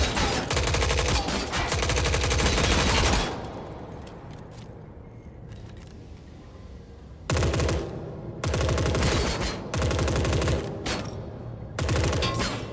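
Spectre gun in Forever Winter firing sustained full-auto bursts: a loud, dense stream of shots for about three seconds, a quieter gap, then several more long bursts separated by short pauses.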